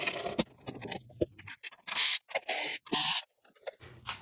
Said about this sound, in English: First step is going to be remove this inner fender liner.